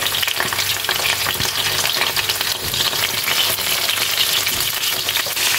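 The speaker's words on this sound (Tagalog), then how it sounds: "So now we'll put the tomatoes." Tomatoes hit a hot pan for chicken afritada and fry with a loud, dense, continuous sizzle, close up, with faint stirring scrapes mixed in.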